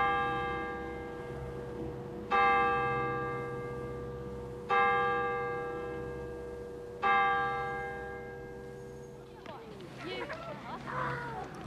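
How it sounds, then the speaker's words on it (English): An ancient church bell rings during worship in a parish church in Rostrevor, Ireland. Three loud, resonant strikes come about two seconds apart, each one humming away slowly before a rustle of other noise at the end. "this ancient bell rings once again during worship in the parish church"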